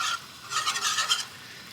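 Sauce for a pasta bake whisked with a non-rubber whisk to break up lumps: a short burst of quick, close rasping strokes against the pan, alone and fairly quiet.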